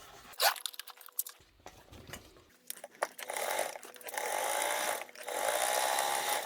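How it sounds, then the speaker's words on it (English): A sewing machine stitches fabric while making a tote bag: some handling rustles and clicks first, then a steady, close whirring drone that runs to the end. "let's grab the sewing machine"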